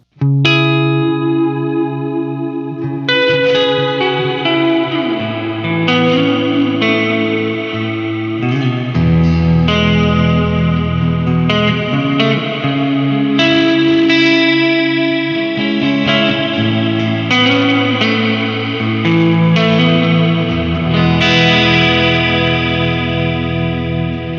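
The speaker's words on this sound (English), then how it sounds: "we're checking out the digital reverb RV-5 from Boss" An electric guitar played through a Boss RV-5 digital reverb pedal: sustained chords and single notes change every few seconds, each one ringing out into a long, lush reverb tail, loud and continuous with no talking.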